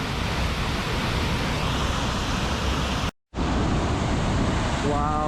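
A Scottish waterfall pours over rocks, a steady broadband roar that fills the scene, cut by a brief dropout midway before resuming just as loud.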